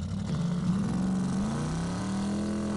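Garry's Mod car engine revving steadily, a continuous loud drone whose pitch climbs gradually through the clip, with no speech over it.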